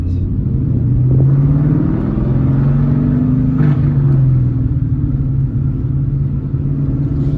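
Manual car pulling away in first gear as the clutch is eased out, a steady loud engine drone with low harmonic tones rising gently under throttle, continuous throughout.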